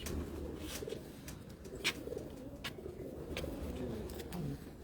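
Parwazi pigeons coo softly in a low, steady murmur under faint background noise, with a few sharp clicks scattered through the scene and no talk.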